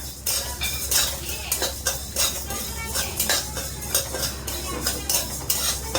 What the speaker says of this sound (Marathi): आता आपले चालत असे धने भाजून घ्यायचे, खमंग असे धने भाजून घ्यायचे.